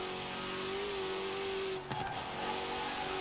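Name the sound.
Porsche race car engine accelerating in Forza Horizon video game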